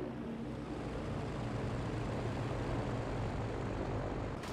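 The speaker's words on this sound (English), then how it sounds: "Just something extra satisfying about a plane taking on an anti-air unit" Steady propeller-engine drone of a WW2 fighter plane in Battlefield 5, a loud continuous hum held close and even for the whole stretch, with no talk over it.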